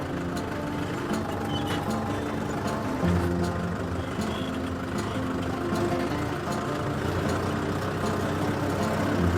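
A tractor working a field with a plough hitched behind, its engine giving a steady, continuous low rumble that stays even in loudness throughout with no pauses.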